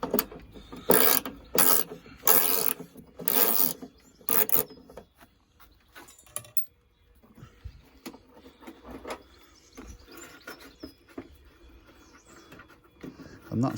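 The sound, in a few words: ratchet spanner removing car wing bolts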